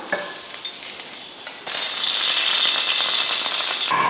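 Fish frying in a pan for meen varuval, a steady bright sizzle that swells loudly after a quieter start with light scraping, then cuts off near the end.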